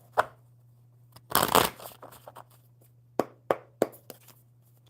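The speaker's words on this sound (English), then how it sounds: "One more good shuffle." Tarot cards shuffled by hand at a table: a quiet, close riffle burst, then several sharp, isolated taps and snaps as the deck is squared, with no voices.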